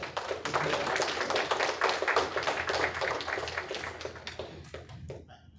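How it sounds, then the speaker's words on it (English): Applause and tapping from an audience welcoming a poet at an African Liberation Day lecture, a dense burst of claps that holds steady for about five seconds, then thins out and fades. "So let us, with a little round of applause,"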